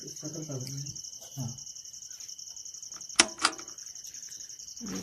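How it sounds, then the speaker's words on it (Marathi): Steady high-pitched cricket chirring in a jungle at dusk runs throughout, with a brief voice near the start and a couple of sharp knocks midway. "असं छान जंगलातलं वातावरण आहे रातकिड्यांचा आवाज आहे"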